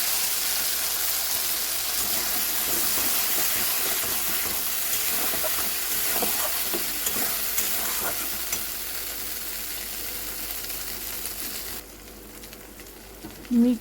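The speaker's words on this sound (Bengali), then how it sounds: "দিয়ে 2-3 মিনিট এটাকে কষিয়ে নেব, পোস্ত আদা কাঁচা গন্ধটা যাতে বেরিয়ে যায়" Paste of ground cashew, ginger, green chili and poppy seed fries in a hot pan, giving a steady, loud sizzle and hiss with stirring scrapes for about twelve seconds, then dropping suddenly to a quieter simmer before a short clatter at the end.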